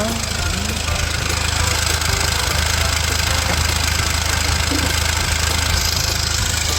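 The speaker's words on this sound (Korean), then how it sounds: "지금 엔진에서 소리가 들리나요?" A 2016 Kia Sportage idles at a stop with a loud, steady engine drone and a low throbbing hum. A rough, faintly knocking rattle and broad mechanical noise run continuously, recorded close to the engine.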